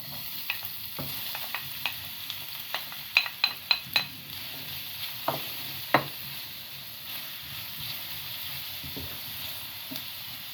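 Onions frying in hot oil in a frying pan, a low steady sizzle under sharp clinks and scrapes of a utensil stirring against the pan at irregular intervals.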